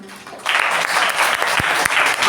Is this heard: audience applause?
yes